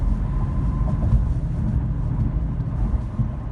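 Continuous low engine and road rumble from an automatic Infiniti Q50 with an axle-back muffler-delete exhaust cruising steadily at 45 mph, just under 2,000 RPM, a dense, even drone with no voices.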